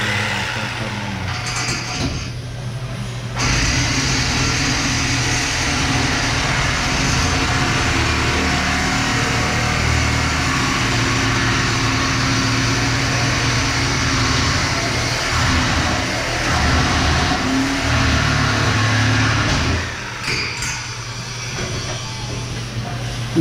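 A plasma cutter cuts thin steel panel on a decorative gate build, giving a steady loud hiss and roar that runs almost the whole time, with brief dips in level at the start and end.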